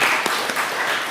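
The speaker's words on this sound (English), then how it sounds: "Another round of applause." Audience applause after a lecture on cavernoma, a short dense burst of clapping from a crowd.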